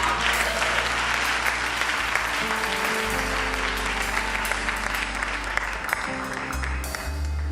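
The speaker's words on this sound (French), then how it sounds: "On applaudit Jésus." A church congregation claps steadily for Jesus during a worship service, dense, sustained applause filling the hall for several seconds, with low organ or keyboard chords held underneath.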